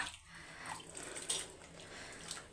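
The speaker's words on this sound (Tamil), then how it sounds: "இப்போ இந்த மிக்சி ஜாரில் உங்களுக்கு எவ்வளோ குழம்பு வேணுமோ அந்த அளவுக்கு தண்ணியை ஊற்றி" Water is poured into a mixer jar while making a village-style fish curry, giving a faint, soft splashing trickle with small bright splashes partway through, heard alone and at low volume.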